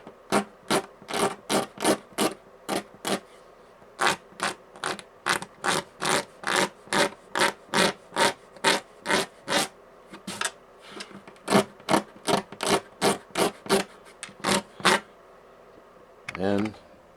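Rhythmic rasping strokes of belt-sander sandpaper glued to a wood block, sanding a guitar bridge to level its surface: about thirty steady back-and-forth scrapes, close and fairly loud, with brief pauses, ending in a short different rub.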